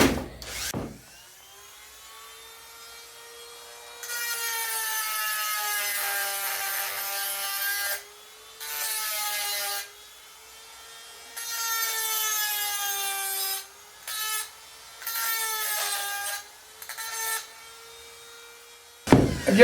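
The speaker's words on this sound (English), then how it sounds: "Little feather wheels, abrasive wheels. We'll try those too." An abrasive feather wheel on a power tool grinds a cat's paw nail puller in repeated bursts of high, whining abrasion separated by pauses, close and fairly loud, with a steady motor hum beneath.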